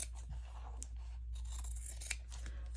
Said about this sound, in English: Oh, it's fabric, so we better use our fabric scissors.